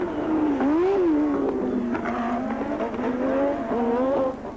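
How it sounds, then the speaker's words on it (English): Osella Formula 1 spare car number 21 with a V8 Alfa Romeo engine, practicing at the 1987 Australian Grand Prix: a loud, close engine note rising and dipping in pitch through gear changes and throttle lifts, fading slightly at the end. "There is the Osella, car number 21, the spare car. It has a V8 Alfa Romeo engine in it"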